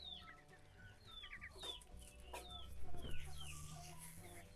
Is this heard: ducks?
yes